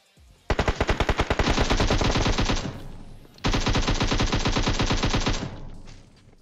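Full-auto M416 rifle fire in the PUBG video game, two long rapid bursts, the first opening with a few separate shots, loud and close, with a brief pause between bursts.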